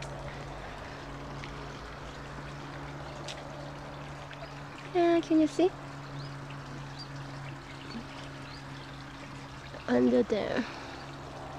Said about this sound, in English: The sounds of water.